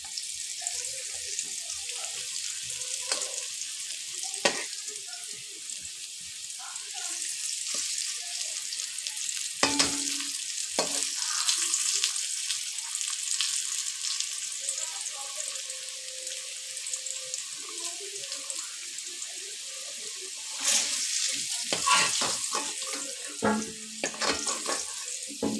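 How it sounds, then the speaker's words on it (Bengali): Potatoes being fried for a wedding-style mutton curry sizzle steadily in a pan, a continuous hiss with scattered clinks and scraping stirs, loud and close, with no talking. "আলুটা একটু ভেজে নিলাম, একটু কালার ধরেছে"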